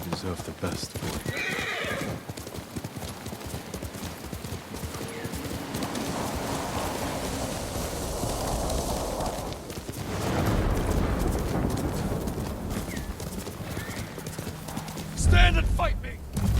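In the video game Ghost of Tsushima a horse gallops with rapid, driving hoofbeats close by and lets out whinnies, with dense game ambience and a sharp burst near the end.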